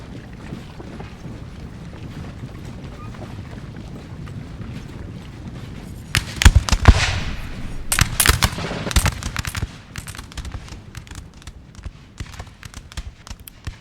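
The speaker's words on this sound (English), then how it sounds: "Russia's 12 pounders finally actually getting in some action" Russian 12-pounder cannons firing in the video game Napoleon Total War during a multiplayer street battle for Dresden, a burst of loud booming shots over continuous battlefield din.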